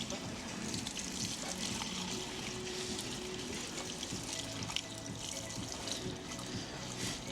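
About twenty litres of watery liquid pour steadily into a funnel and splash onto the floor, a continuous trickling wash with faint voices in the background.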